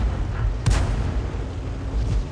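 A tank cannon shell firing and striking a P43 in a tank video game: a single sharp, loud boom followed by a rumbling tail amid low battle noise.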